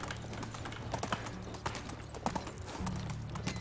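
Horse hooves clip-clopping in steady uneven strikes while riding at night in the video game Medieval Dynasty, fairly close, over a low background hum with no voices.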